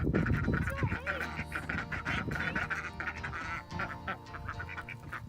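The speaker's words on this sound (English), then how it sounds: "The ducks are always so excited to see us." Several ducks quack excitedly and repeatedly at close range during a morning feeding of farm animals, a busy overlapping chorus with a person talking underneath.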